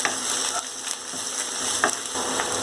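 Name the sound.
onions and ginger garlic paste sautéing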